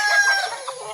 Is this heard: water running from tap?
no